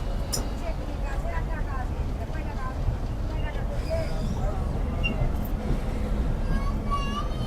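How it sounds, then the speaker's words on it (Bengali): The Aparajita Commuter train pulls out of Golabari railway station, a continuous low rumble of rolling wheels and engine with faint squeals and clatter, steady throughout, with voices murmuring in the background. "সকাল নয়টা তেরো মিনিটে অপরাজিতা কম্পিউটার ছেড়ে গেল গোলাবাড়ি রেলওয়ে স্টেশন"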